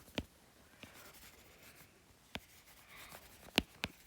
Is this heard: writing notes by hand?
yes